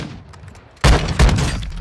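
An Olympia double-barrel shotgun fires in Warzone 2, two heavy, close booming blasts in quick succession, loud and punchy, with no talking.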